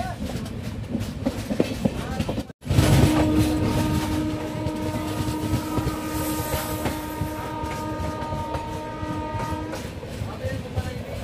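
A moving train rumbles loudly and steadily close by, with a brief cutout early on, then a sustained tonal whine over the rolling noise.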